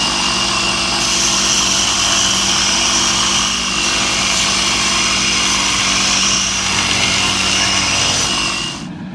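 A forged viking spoon knife is ground up through the grits to 600, making a loud, steady, close abrasive whir with a grinding hiss that holds almost without a break, then cuts off at the end.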